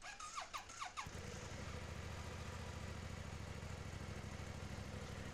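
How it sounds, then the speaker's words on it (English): A 2016 BMW C650GT scooter engine cranks with a few rising starter whirs, catches, then settles into a steady, even idle close by. "I'll start the scooter."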